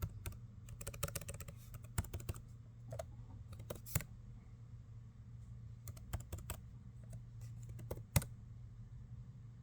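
Fingers type a password on a computer keyboard, producing quick, close, irregular key clicks in bursts with a few harder keystrokes over a low steady hum.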